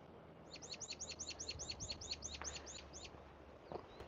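A small bird, not a hummingbird, calls outdoors with a quick run of about a dozen evenly spaced high chirps, moderately faint against quiet background noise.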